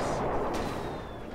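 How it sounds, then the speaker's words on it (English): Rocket barrage and cannon fire in a Dota 2 tournament match, a dense, steady rumble of blasts and impacts with a brief whoosh midway, loud and continuous throughout. "Black Cannons and Rocket Barrage will just clean this one up."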